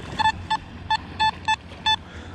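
Nokta Marko Simplex+ underwater metal detector giving a foil-like signal: six short, evenly spaced beeping tones that repeat over a low background rumble.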